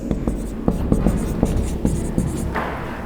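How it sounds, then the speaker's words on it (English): Writing on a board during a classroom grammar lesson: a steady run of short, close strokes and taps over a low hum, with no talking. "We have to write here."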